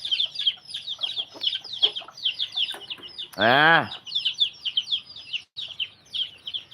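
Chickens and a hen clucking and chirping in a backyard flock, a busy run of overlapping calls with a brief louder squawk in the middle, while a voice speaks briefly.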